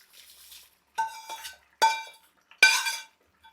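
Tempering is stirred into a raw tamarind chutney, giving three sharp metallic scrapes and clinks of a spoon against the pot, evenly spaced and close, each fading quickly, with no talk.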